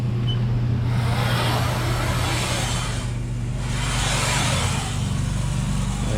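A CNC machine runs a program cutting a pocket, giving a loud, steady machining drone with a constant low hum throughout and brief dips in the upper hiss.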